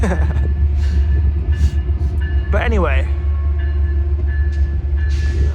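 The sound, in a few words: train passing by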